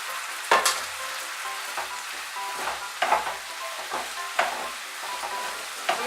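Tomato paste with a teaspoon of chili powder sizzles and fries in a pan, with a spoon scraping and stirring it in several distinct bursts over a steady background crackle.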